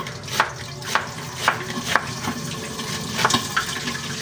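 Garlic and onion sautéing in a pan, a continuous sizzle punctuated by evenly spaced sharp stirring scrapes about every half second, close and fairly loud, without talking.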